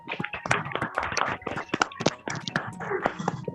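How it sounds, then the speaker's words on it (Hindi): Group clapping for a team leader at a Happy Health India leadership celebration, a steady, dense patter of many hands at moderate level that continues throughout. "सो मैं सब लोगों से रिक्वेस्ट करूंगा एक बार जोरदार तालियां बजाएं इनके लिए"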